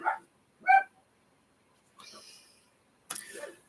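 A pet dog barking indoors, two short sharp barks followed by a pause, then a thinner whining yelp and another brief bark-like sound.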